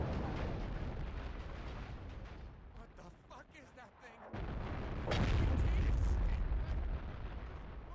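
Heavy mech cannon shells fire and explode in the video game Steel Battalion: Heavy Armor, making a dense, continuous roar of deep booms and rumbling blasts that swells louder midway, with no voices over it.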